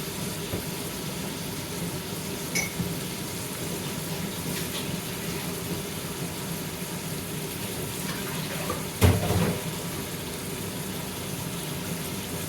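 Water is poured into a pot while cooking Pakistani-style chana rice, a steady low rushing wash that runs evenly throughout, with one brief louder clunk near the end.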